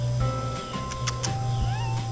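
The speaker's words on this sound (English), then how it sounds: "While you're waiting, you can just observe this cute cat." A pet cat meows several times in quick succession, close and clear with rising, drawn-out cries over a steady low background hum and no talking.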